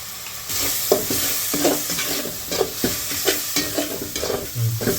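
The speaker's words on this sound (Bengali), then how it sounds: "মশলাটা ভাজা করে নিয়েছি" Biryani spices with garam masala and green chillies frying in a pan, a dense loud sizzle with rapid rhythmic stirring scrapes throughout, up close and with no speech.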